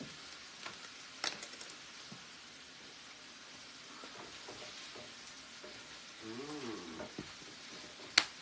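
Food frying in a pan with smoked paprika and chili powder, stirred with a utensil: a soft continuous sizzle with occasional scrapes and clicks, quiet and close, with a brief murmur of voice.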